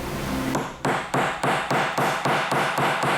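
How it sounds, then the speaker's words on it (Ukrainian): A hammer drives nails into a coffin lid, with about nine sharp, evenly spaced strikes ringing out close and alone in an otherwise quiet room. "Сейчас крышку гроба забьют гвоздями."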